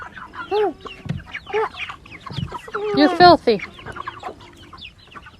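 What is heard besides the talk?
chickens clucking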